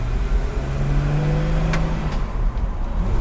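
A 1965 Ford Mustang engine revs up steadily with a rising hum, loud and close, as the car accelerates through first gear with road noise underneath.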